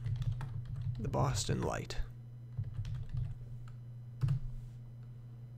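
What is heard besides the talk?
typing a photo caption on a computer keyboard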